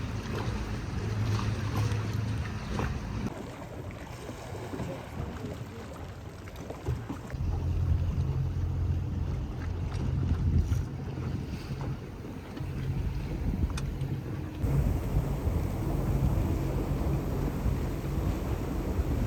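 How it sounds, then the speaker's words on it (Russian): A motorboat engine drones steadily beneath heavy wind buffeting and splashing water as the boat passes between cliffs, continuous and fairly loud, with no one speaking. "Сейчас мы пройдем на катере между скал"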